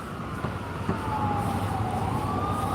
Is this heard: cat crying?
no